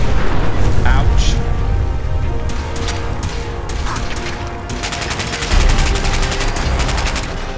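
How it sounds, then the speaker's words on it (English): Repeated explosions and gunfire in Fallout 4, at Nuka World: heavy booms mixed with rattling bursts, loud and continuous, with a sharp rapid crackle near the end. "Don't know why they all explode."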